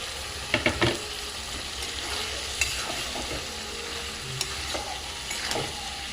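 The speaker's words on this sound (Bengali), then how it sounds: "এবার ফুলকপিগুলো দিয়ে দেবো, দিয়ে ভালো করে কষবো।" Cauliflower florets stir-fried in a pan for a prawn, cauliflower and potato curry make a steady sizzle. A few sharp scrapes and knocks of the spoon stand out near the start and again later. There is no talk.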